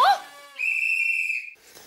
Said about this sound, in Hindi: सीटी क्यों बजा रहे हो?